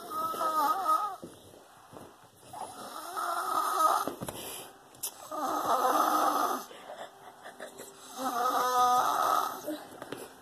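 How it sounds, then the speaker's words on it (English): A five-year-old child snores loudly in slow, regular cycles, each long rasping inhale followed by a quiet pause, close to the recording device in a quiet room. "He snores like that."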